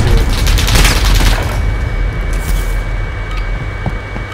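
Call of Duty Warzone gunfire: a loud burst of rapid shots and booms up front, thinning into scattered distant cracks and pops.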